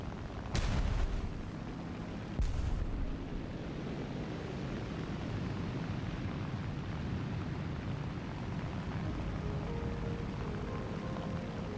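Small bombs dropped by an Il-2 Sturmovik burst against tank armor in War Thunder, two sharp explosive thumps early on, then a steady rumble of engine and battle noise.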